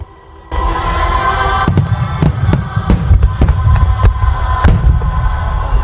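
Fireworks go off in a string of sharp cracks and pops at irregular intervals over a continuous crackling rumble, loud and close, with music underneath.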